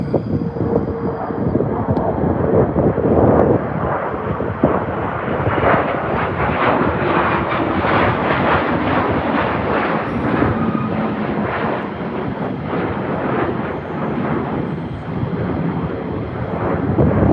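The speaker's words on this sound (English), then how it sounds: "No, they're F-15 Strike Eagles." A pair of F-15 Strike Eagle fighter jets passes overhead near an airport approach, and a loud, broad jet roar builds and holds steady for the whole stretch, with no voices over it.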